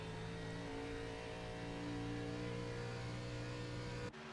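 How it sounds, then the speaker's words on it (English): A continuous, loud race car engine in a racing video game, ARCA Series at Indianapolis, at steady high revs with sustained tonal drone, ending in an abrupt cut. "You can hear Ricky's car coming off of 2"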